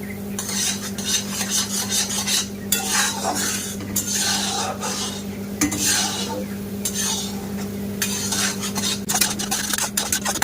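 Sticky sugar syrup with sliced raw mango is stirred in a pan for a jilipi recipe, a close, repeated scraping of a utensil against metal over a soft sizzle, with steady hum beneath.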